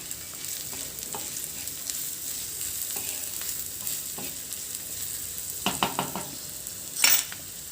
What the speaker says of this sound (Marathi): यामध्ये टाकून घ्यायचं आहे आणि 1-2 मिनिट थोडंसं परतून घ्यायचं आहे।